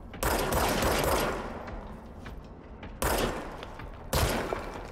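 Gunfire from enemy weapons in a horror video game, heard as dense, loud fusillade bursts: one long volley, then two sharp renewed bursts near the end, with no talk over it.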